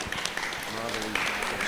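An audience at a ceremony claps, brief scattered applause heard close, mixed with a loud speaking voice over a public address.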